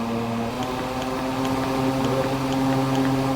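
An electric cooling fan running at a higher speed setting gives off a steady, even motor hum with a faint whirring drone, close and continuous, with no voices.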